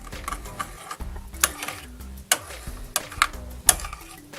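Mustard sauce being stirred in a pan, giving soft scraping and clinking strokes at an irregular rhythm with a few sharper utensil taps against the pan, close and fairly quiet.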